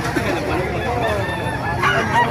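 Chickens cluck and squawk amid a busy crowded poultry market in Calumpit, Bulacan, Philippines, with overlapping voices and general chatter around the birds.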